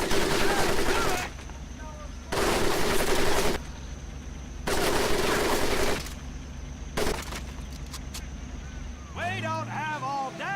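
Live machine gun fire rattles over a mud pit during boot camp training in Medal of Honor, coming in long sustained bursts separated by pauses, with shouted orders between them.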